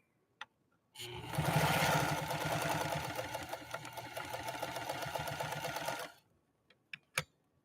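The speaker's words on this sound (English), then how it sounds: "now we're going to try to lay down a zigzag next to this straight stitch" A 1955 Pfaff 230 sewing machine stitching a zigzag, running for about five seconds in a steady rapid mechanical chatter, bracketed by a few isolated clicks before and after, with no talking.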